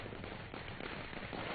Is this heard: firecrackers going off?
yes